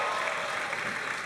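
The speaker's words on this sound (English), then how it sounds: "give them one more round of applause." Audience applause at a cosplay contest, a steady dense wash of clapping from a crowd filling the room without a break.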